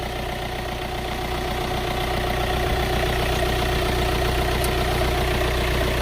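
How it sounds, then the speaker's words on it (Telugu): A car engine idles with a steady, even rumble, close by and constant throughout. "సో ఇంజిన్ సౌండ్ చూడండి"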